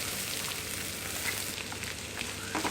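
Boiled green gram dropped into tempered oil for a thoran, a dense continuous sizzle and crackle, steady and close throughout with faint stirring, no talking.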